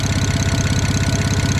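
A built BMW 335i with an N54 engine idling with an exhaust leak, giving a steady, rapid ticking pulse over a low engine drone, close and loud with no one talking.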